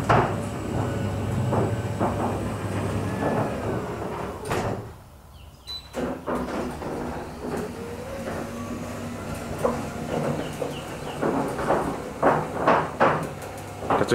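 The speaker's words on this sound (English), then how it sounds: "A few creaks and groans, but it's a huge difference now." A lubricated garage roller door rolls with a continuous rumble and a run of intermittent creaks, clicks and groans, close and moderately loud, easing briefly in the middle before the rattling resumes.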